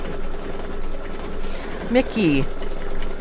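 An embroidery machine runs with a steady, fast stitching hum under a person talking, with a brief whirring sweep midway through.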